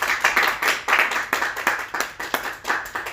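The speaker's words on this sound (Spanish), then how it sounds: "Un aplauso, por favor." A church congregation welcoming a guest preacher with applause, brisk rhythmic clapping in pulsing waves, fairly close and loud.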